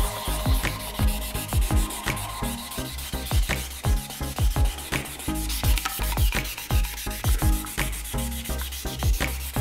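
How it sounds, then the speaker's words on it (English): Sandpaper of 800 grit rubbing over transparent carbon primer on painted bike parts, a steady back-and-forth scratchy scrubbing with regular strokes, close and continuous throughout with no talking. "sanding the transparent carbon primer with 800 grit."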